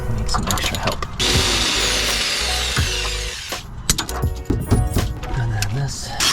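An impact wrench hammers at a rusty bolt on a Toyota MR2, with a loud, sustained rattling burst followed by shorter bursts and mechanical clanks in a garage. A voice can be heard in the background.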